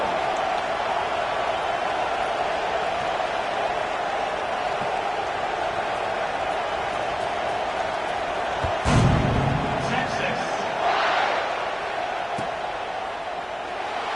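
A stadium crowd in a Penn State college football dynasty video game roars steadily at kickoff, a constant wash of noise that swells briefly around the kick before settling back.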